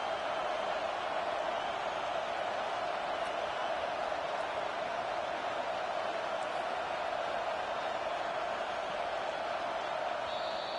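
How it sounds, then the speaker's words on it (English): A stadium crowd at an Arizona State college football game roars as a steady, dense wall of cheering, heard from within the stands without letting up. "Listen to this crowd just shaking the girders of this place"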